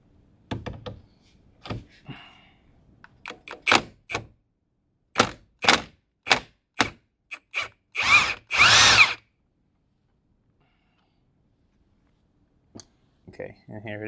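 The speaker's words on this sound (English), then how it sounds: "I'm gonna go ahead and unscrew the bolt." A power tool whirs in a series of short, sharp bursts while unscrewing a bolt inside an FL5 Honda Civic Type R interior, with quiet gaps between pulses and a brief rustle near the end.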